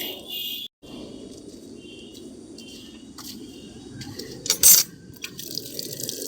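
Tap water runs steadily for washing clothes, a continuous close splashing stream with a short break and a few clinks and drips near the end.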